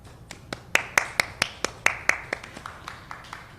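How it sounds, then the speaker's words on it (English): A dozen or so sharp, separate claps ring out in an uneven rhythm, fairly close, loud at first and thinning toward the end. "a huge round of applause"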